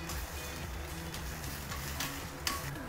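Chopped red onions fry in a small clay pot over medium heat, giving a steady close hiss and sizzle with faint stirring scrapes and one brief knock near the end.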